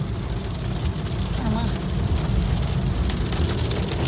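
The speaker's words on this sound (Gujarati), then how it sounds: "પેલો જબરદસ્ત વરસાદ ચાલુ છે" Heavy rain drums steadily on a surface nearby, a loud continuous wash of noise with a faint voice briefly underneath.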